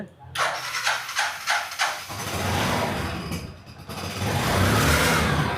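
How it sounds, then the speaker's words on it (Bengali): A used 110cc motorbike engine sputters into life, revs in a few short bursts, then settles into a steady loud rumble, close by. "স্টার্ট গাড়ির সাউন্ড শুনলে শান্তি"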